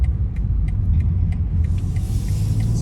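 A BMW engine revs up steadily from inside the car during paddle shifting, giving a continuous low rumble that stays strong throughout, with a slight change in tone partway through.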